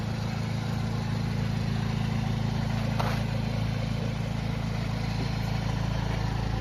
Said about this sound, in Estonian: Mootor töötab ilusti vaikselt.